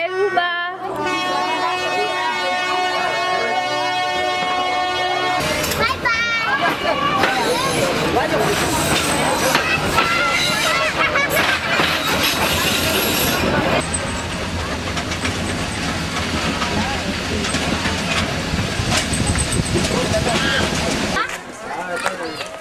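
A train at a railway station in Madagascar's spice region opens with a sustained horn-like tone, then loud rumbling, clanking and squealing wheels continue for about twenty seconds, with voices mixed into the din.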